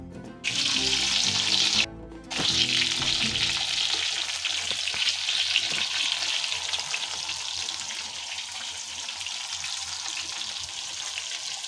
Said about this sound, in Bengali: রুই মাছের মাথা ভাজছি